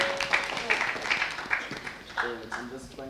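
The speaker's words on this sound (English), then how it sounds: "A round of applause" Audience applause at an industry-academia workshop, a short spell of clapping heard under and around talk, with a voice coming in near the end.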